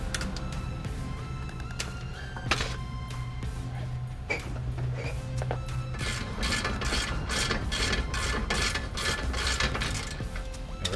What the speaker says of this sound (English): Alright, so we got this nut and bolt off.